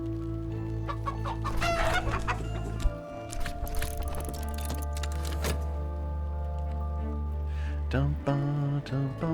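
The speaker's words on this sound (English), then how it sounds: "Let's go ahead and get a sound from our chickens" Chickens in the Book of Hours video game cluck and squawk in a busy run of calls, with a rooster-like crow among them, close and clear over a low sustained musical drone, with no speech.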